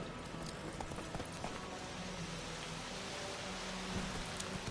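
Horse hooves clip-clop steadily in a video game, a soft continuous patter under a rain-like ambient hiss, with no talking.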